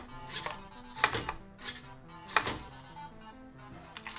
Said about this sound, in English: Dispensing boba for 10 cycles.